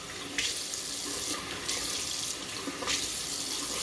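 Tap water runs steadily into a sink while someone wets their face before shaving. The flow is close and continuous, with a few brief surges as hands move through the stream.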